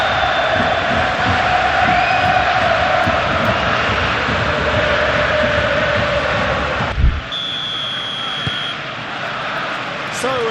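A stadium crowd in PES 21 roars as a steady dense wash of noise, with commentators talking over it before the roar cuts down to a quieter hum.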